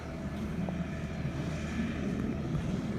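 A tractor pulling an air-type planting machine rumbles steadily across a field, a continuous low engine drone at moderate distance with no voices.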